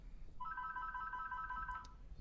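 Phone ringing in the zombie video game Dead Island, a single electronic trilling ring lasting about a second and a half, moderately faint against quiet background hiss.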